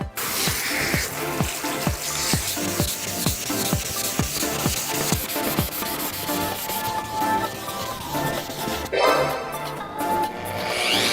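A car part's painted surface is hand sanded with 1000 to 2000 grit wet sandpaper, steady rhythmic back-and-forth rubbing strokes up close, with a watery swish near the end.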